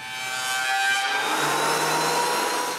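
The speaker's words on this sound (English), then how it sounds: "right away found some old pine planks lying around and planed them" A hand plane shaves an old pine plank thinner in one long, close rasping stroke with a ringing edge, loud and alone, with no talking.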